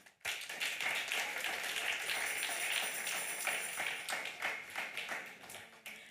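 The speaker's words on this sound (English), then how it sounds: "Give a clap of offering if you agree" Congregation clapping together in church during a children's week service, a dense, steady round of applause that starts abruptly and continues evenly to the end.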